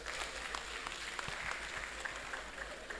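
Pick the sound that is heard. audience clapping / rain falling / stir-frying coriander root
audience clapping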